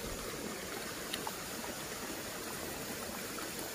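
Spring water welling up from the ground on a landslide slope trickles and flows in a faint, continuous, gentle rush with no talking.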